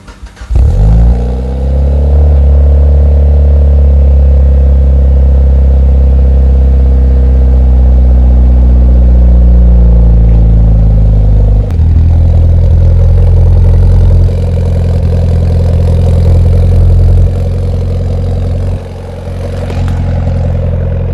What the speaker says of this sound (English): Now let's go ahead and start up the car.